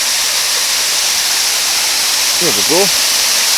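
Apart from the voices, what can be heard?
waterfall, Douglas Hotel, Brodick, Isle of Arran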